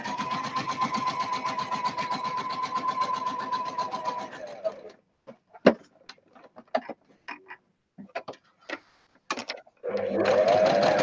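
Sewing machine stitching lace onto a fabric pocket book, running steadily and fairly loud for about four seconds, then a few short bursts with pauses, and a final steady run at the end.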